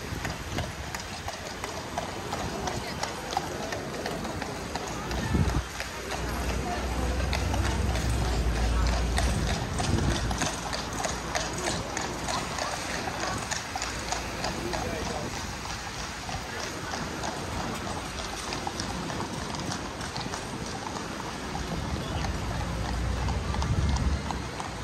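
Horses' hooves clip-clopping along a seaside pier promenade on a bank holiday, a steady rhythmic clatter through busy outdoor ambience, heard under ongoing talk.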